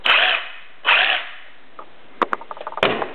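A DeWalt reciprocating saw (Sawzall) buzzes in two short bursts, followed by clicks and rattles of handling, then a third burst starting up, close by.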